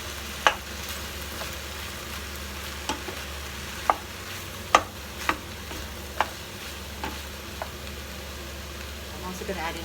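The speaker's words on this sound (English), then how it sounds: "And give it a bit of a stir." Pak choy stalks and cauliflower stirred in a stew pot, with scattered spoon scrapes and clinks over a low steady hum and faint simmer, fairly close.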